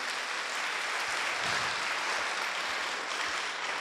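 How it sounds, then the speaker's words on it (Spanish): Applause from a conference audience at a financial intelligence talk, a steady, dense wash of many hands clapping at moderate distance, filling the whole stretch without voices over it. "Vamos a darles un aplauso a los que sí hicieron caso y se vinieron para adelante, por favor."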